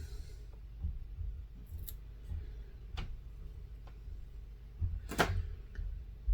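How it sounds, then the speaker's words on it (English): Scissors snip through the ends of an empty duct tape roll, cutting them at an angle: a few sharp, separate cuts spaced apart over quiet background, with one louder snip near the end. "I'm going to cut the ends at an angle so that would they flow into each other."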